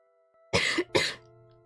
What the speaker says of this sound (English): I hope my coughs aren't too loud